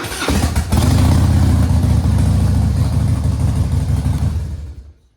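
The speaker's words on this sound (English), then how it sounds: "I'm going to go ahead and check my bike now. Turn it on." A Harley-Davidson Heritage Softail engine, just fitted with a new battery, fires up and runs with a loud, steady, throbbing rumble up close, then cuts off at the end.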